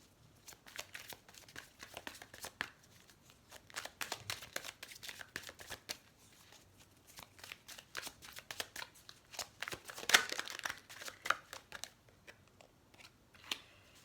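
A deck of tarot cards shuffled and cut, with rapid papery riffles and flicks that come in bursts over about fourteen seconds, close and fairly soft, with no talking.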